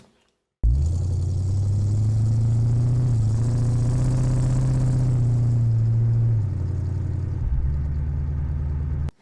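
Car exhaust recorded on its own, engine starting up then idling with a loud, steady low rumble, a slight rise in revs midway, then dropping back before cutting off.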